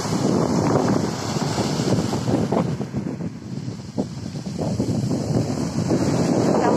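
Stormy sea with waves surging and breaking, buffeted by strong wind noise across the microphone, loud and continuous throughout with no voices.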